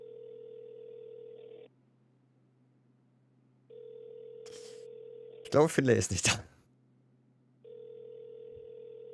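Ringing tone of a phone call in a roleplay video game: long steady tones repeat with silent gaps between them, fairly quiet, and someone briefly speaks in one gap.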